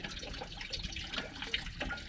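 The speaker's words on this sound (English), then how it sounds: "There's the water pumping away." Water from a motorhome's onboard pump runs and splashes at a free campsite on the Nullarbor, a steady close trickle with small drips and splashes throughout, no talking.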